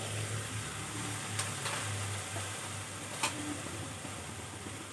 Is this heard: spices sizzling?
yes